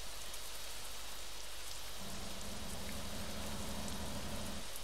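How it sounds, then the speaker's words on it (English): Steady rain falls at night in Montana in American Truck Simulator, a constant loud hiss of drops on surfaces with a low rumble joining midway, and no voices. "we've learnt it rains in Montana"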